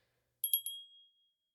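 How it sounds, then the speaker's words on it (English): A small bell rung for a ritual gives three quick, bright, clear dings that ring on and fade out in otherwise total silence. "Think you can ring that bell?"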